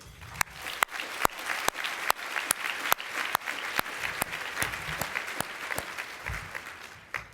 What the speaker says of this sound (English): Let's get a round of applause for the YWCA.